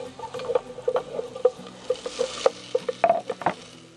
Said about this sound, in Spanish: primero voy a sofreír el ajo